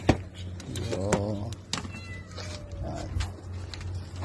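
Cat meowing near food being mixed from dog food and cat food, a few distinct meows rising and falling over a low steady hum, moderately close, with brief clicks and handling noises.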